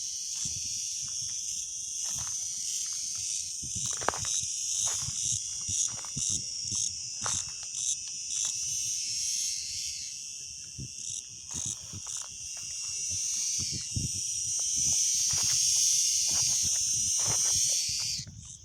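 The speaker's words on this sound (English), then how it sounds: "See the crickets? When I come closer." Crickets chirp outdoors in a steady, dense high trill that carries through the whole stretch, swelling louder near the end, with faint soft rustles and steps beneath.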